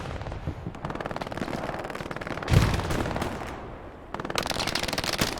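Machine gun fire rattles in a large 18-versus-18 multiplayer war video game, with rapid continuous bursts, a heavy blast in the middle, then another stretch of sustained automatic fire.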